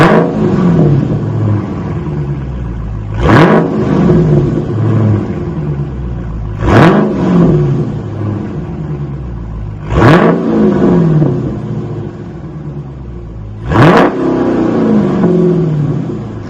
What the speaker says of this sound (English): Let's see what it sounds like. Oh yeah, that's rumbling.